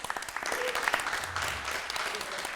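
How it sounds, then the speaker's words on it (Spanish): Audience applause in a cinema during a forum on independent genre film, steady clapping from a room of people lasting a few seconds, with some voices under it. "Andrés, nos da un aplauso para Andrés, por favor."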